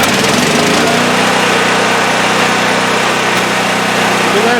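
A Champion generator engine runs steadily just after a choke start, a loud, continuous close-up drone with a rough, even mechanical rumble and no pauses.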